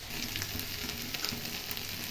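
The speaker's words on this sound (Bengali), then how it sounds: "দেখো ফুলকপিগুলো ভেজে নিচ্ছি।" Cauliflower florets frying in a pan of hot oil, a steady close sizzle with soft crackling running continuously and evenly throughout.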